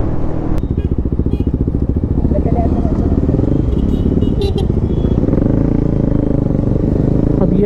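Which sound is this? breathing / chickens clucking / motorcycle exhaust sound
motorcycle exhaust sound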